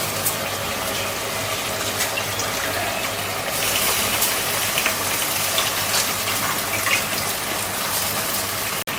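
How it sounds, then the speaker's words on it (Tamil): Uncooked seeraga samba rice pouring into a pot of mutton biryani masala, a steady rushing, gushing pour that continues for several seconds before ending in a sharp clatter. "அரிசி சேர்த்துடலாம்."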